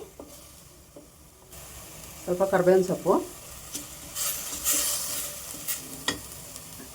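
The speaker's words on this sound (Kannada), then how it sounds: "ಪೇಸ್ಟ್ ಮಾಡ್ಕೊಂಡಿರೋ ಈರುಳ್ಳಿ ಒಗ್ಗರಣೆಗೆ ಹಾಕಿದ್ದೀನಿ" Onion paste sizzles and crackles steadily in tempering oil in a pan, with stirring scrapes and a short stretch of nearby talking partway through.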